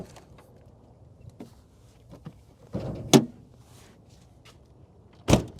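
Car doors of a 1988 Land Rover Defender thump shut twice, sharp solid slams about two seconds apart, with softer handle clicks and latch rattles in between.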